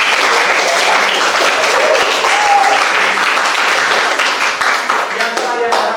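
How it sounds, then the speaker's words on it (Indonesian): A secondary-school class of eleventh-graders applauds in their classroom, a dense, loud wash of many hands clapping that holds steady for the whole stretch without a break. "Kasih tepuk tangan untuk kelas 11 ya."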